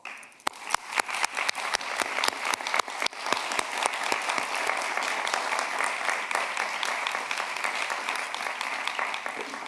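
Audience applause for panelists at an EU Danube Region strategy forum, opening with a few distinct near claps that swell within seconds into steady, full clapping sustained to the end.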